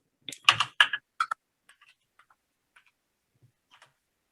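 Keystrokes on a computer keyboard, first a quick loud burst of clustered clicks, then sparse, softer single taps spaced out over the rest of the stretch, close and alone with no voices.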